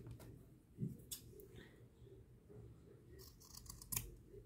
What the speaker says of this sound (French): Et avec un bon ciseau.